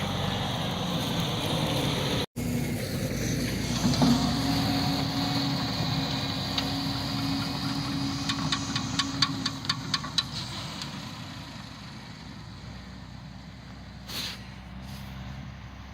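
A tractor towing a manure spreader for cattle muck drives across grassland with a steady, droning engine and a rattling machinery hum throughout, plus a brief clattering burst midway.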